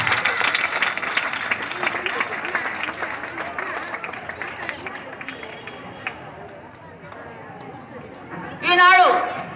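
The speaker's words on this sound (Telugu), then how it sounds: "cheer claps" An audience at a school parents' meeting claps steadily, the applause gradually thinning out, with a short loud vocal outburst near the end.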